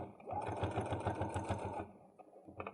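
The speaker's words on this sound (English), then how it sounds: "And we're going to top stitch." A sewing machine runs steadily for about a second and a half while top stitching a coin purse, a close mechanical whirr with fast rhythmic needle pulses, then stops, followed by a couple of brief faint clicks.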